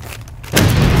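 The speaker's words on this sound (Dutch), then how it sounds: "Explosie." An explosion sound effect hits abruptly after a brief quieter lead-in, a loud, sudden boom that spreads into a rumbling, noisy wash.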